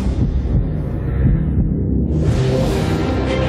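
Deep, throbbing heartbeat effect in a BMW sound logo pulses steadily under a low hum and rumble, with no voice present.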